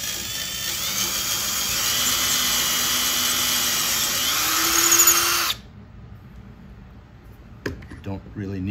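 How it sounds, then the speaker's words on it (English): A drill press bores through a wooden template in a workshop, a loud steady high whine that lifts slightly in pitch before cutting off abruptly, followed by quiet shuffling and handling noises. "So go ahead and drill through. I made this on the drill press"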